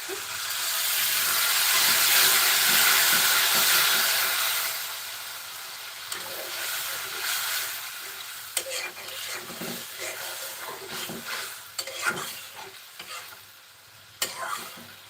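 Potatoes sizzle and fry in a pan while shrimp bhuna cooks, a loud steady hiss swelling early then settling into crackling, stirring and occasional utensil clicks close by, with no talk.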